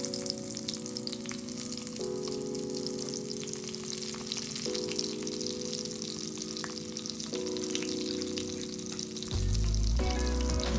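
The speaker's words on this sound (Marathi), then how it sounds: "तेल गरम झाल्यावरती भरलेली वांगी तेलामध्ये सावकाश ठेवा" Stuffed brinjals fry in hot oil in a kadai with a continuous close sizzle, broken by occasional stirring clinks and a short burst of louder, rougher crackle near the end.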